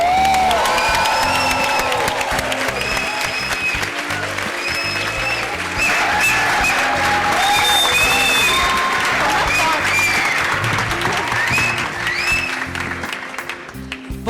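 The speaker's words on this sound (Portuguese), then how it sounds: "Obrigada pelos aplausos." Loud applause with cheering and whoops from a large audience greeting a guest at an evening event, sustained for several seconds with shouting voices mixed in before tapering off.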